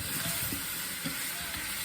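A pan dry-roasting for Caribbean curried goat gives off a steady close sizzling hiss, continuous and fairly loud with no pauses.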